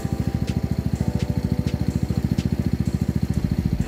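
A snowmobile engine runs close by with a rapid, even, pulsing idle, loud and steady throughout, with no talking.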